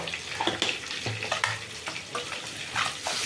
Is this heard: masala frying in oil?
yes